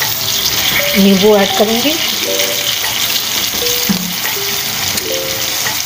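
Black chickpeas frying in a pan give a steady, close sizzle, while someone speaks over it in Hindi and faint stirring clinks surface now and then.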